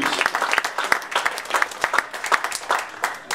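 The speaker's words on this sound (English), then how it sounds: "Give a round of applause to Leo, el famoso" A boxing crowd applauds champion Leo Santa Cruz at a post-fight event, steady dense clapping with sharp individual claps standing out, loud and continuous throughout.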